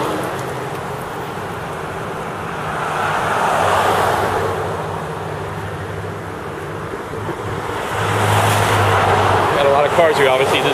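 Cars pass along US 1 in a steady roadside roar that swells twice as vehicles go by close, under heavy wind buffeting on the microphone.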